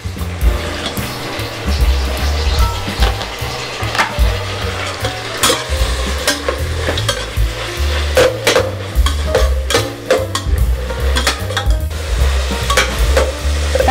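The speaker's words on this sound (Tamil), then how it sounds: "தக்காளி வெங்காயம் நல்லா வதங்கிடுதுப்பா" Tomatoes, onions and green chillies fry and are stirred for egg biryani. Loud, close, repeated scraping and clattering of the spoon sound over a continuous sizzle, with no one speaking.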